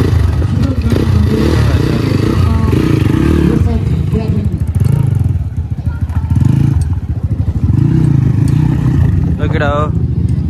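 An enduro race motorcycle revs at a Pokhara race event, its engine droning loudly and steadily throughout with rising and falling pitch, while people talk over it.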